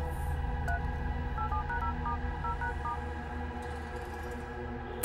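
A telephone is dialed in a tense scene from a Telugu thriller film, with short, evenly spaced keypad tones sounding over a steady background hum and no talking.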